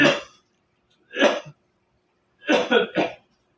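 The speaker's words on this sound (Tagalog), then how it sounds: "Naririnig nyo yung ubo na yan?" Several harsh coughs nearby: a single cough, another after a pause, then a quick burst of three, with silence between.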